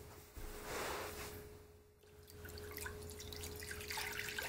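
Water trickles and drips steadily in a Drinkwell Stone Pagoda cat water fountain, a soft continuous flow heard close up with faint dripping and no talk.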